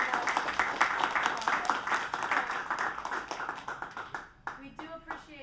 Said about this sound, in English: Can we give the classrooms a round of applause for